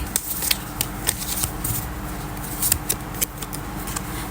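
Tarot cards being shuffled and drawn nearby as a series of crisp, snappy riffles and flicks at an uneven rhythm, fairly clear and with no talking.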